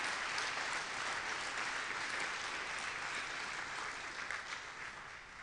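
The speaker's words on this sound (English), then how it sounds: "let's have a round of applause for our fellows of the graduate school." A ceremony audience at a 2017 faculty awards event claps for graduate school fellows, a dense, steady wash of many hands that holds throughout and eases slightly toward the end.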